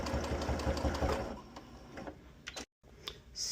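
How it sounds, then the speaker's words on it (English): A sewing machine runs a fast, steady stitch along the edge of a quilt square for a cathedral window block made from 5-inch charm squares. The stitching is close and rhythmic, then it slows into quieter, scattered clicks. "you're just sewing right along that edge, and it's going to catch that yellow square in the center perfectly"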